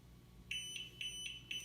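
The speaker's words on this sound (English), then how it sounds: "the fan beeped, indicating it is connecting or connected" A Hunter SimpleConnect Wi-Fi ceiling fan connecting to HomeKit gives a series of high electronic beeps, about four, evenly spaced roughly a quarter second apart over a low background hum.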